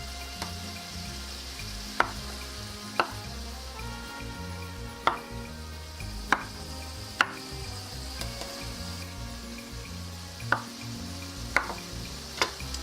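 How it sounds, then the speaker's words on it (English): A knife chops mushrooms into quarters on a cutting board, sharp separate knocks at an uneven pace, while beef for stroganoff sizzles steadily in a pan nearby. "I'm cutting my mushrooms here, and I'm cutting it quarters."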